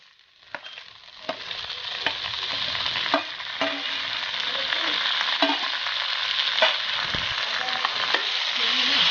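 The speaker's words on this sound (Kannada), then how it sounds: "ಈಗ ಲಾಸ್ಟಲ್ಲಿ ನಾವು ಕಟ್ ಮಾಡ್ಕೊಂಡಿರೋ ಬ್ರಿಂಜಾಲ್ನ ಹಾಕ್ಕೊಳ್ಳೋಣ" Chopped brinjal sizzles steadily in a hot pan with crushed garlic, the frying growing slightly louder over time, with scattered sharp clicks of a spoon stirring against the pan.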